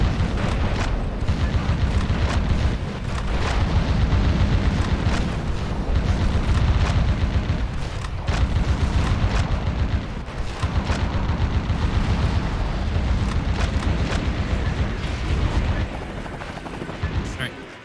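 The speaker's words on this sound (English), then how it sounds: "Now there's these guns. Giant cannons." Giant cannons in Metal Wolf Chaos pound away in a dense, loud barrage of booms and blasts that barely lets up, with a voice partly heard beneath the roar.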